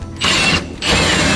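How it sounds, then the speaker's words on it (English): A hand ratchet spins off differential bolts on a Mazda RX-7 FC rear subframe, two close, loud bursts of rapid clicking separated by a brief pause. "So you're taking off the diff bolts right now?"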